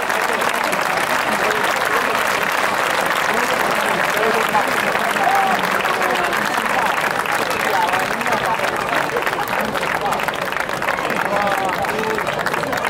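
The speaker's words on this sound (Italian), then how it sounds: "Un applauso anche per Yassin." A crowd at a Muay Thai fight applauds loudly and continuously, dense clapping with cheers and a voice faintly mixed in.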